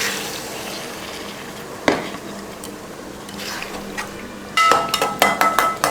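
Mutton cooking water is poured into a pan of mutton and masala and stirred, giving soft liquid splashes, a clank of utensil on pan and a burst of scraping and sizzling near the end.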